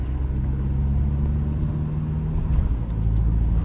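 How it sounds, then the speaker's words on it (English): A Mahindra Scorpio N SUV accelerates hard from the cabin, a steady, loud low engine rumble building throughout with road noise and no talk. "I am going hard and the car picks up pace in seconds like this."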